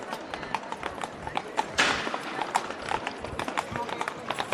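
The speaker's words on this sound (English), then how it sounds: "And here comes the horse-drawn carriage." Horse hooves clip-clop steadily on the cobbled square of Krakow's Old Town as a horse-drawn carriage passes in the rain, a busy irregular clatter over a constant background wash of outdoor noise.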